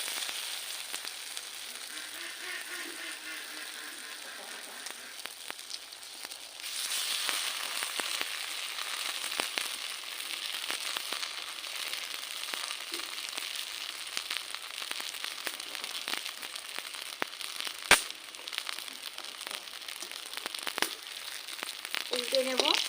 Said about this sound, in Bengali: এখন আমি একটা একটা করে ভেজে নেব।